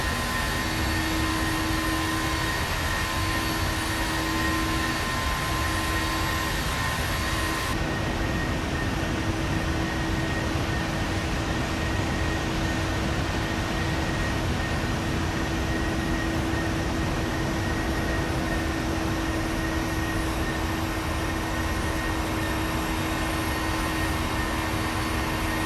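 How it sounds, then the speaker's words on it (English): Jet engine of a PMDG 737 NGX airliner in the FSX flight simulator, a loud steady roar with constant whining tones running unbroken throughout, the upper hiss dropping slightly partway through. "See the engine working away."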